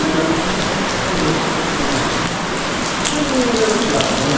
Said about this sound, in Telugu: వర్షం పడుతుంటే ఇంకా హైలైట్